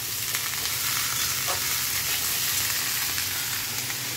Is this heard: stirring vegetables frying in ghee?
yes